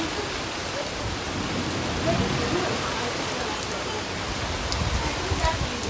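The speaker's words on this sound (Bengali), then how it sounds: "জোর বৃষ্টি হচ্ছে।" Heavy rain pours down outside a house, a dense, even roar of drops that stays loud and unbroken throughout.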